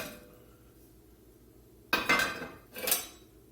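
Quiet low hum, then beef goes into a braising pot with two sharp metallic clanks and scraping rattles, close by.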